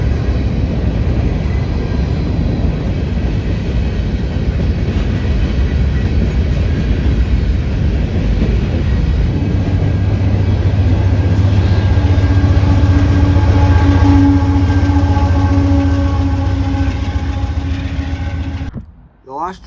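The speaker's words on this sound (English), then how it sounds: "the last train we saw that night was the CPKC Light Power Move, featuring 3 GEVOs painted in the KCS Southern Bell scheme" Three GE Evolution series locomotives in the Kansas City Southern Southern Belle scheme roll past as a CPKC light power move, a heavy rumbling drone building as they near, steady engine tones holding, then cutting off abruptly at the end.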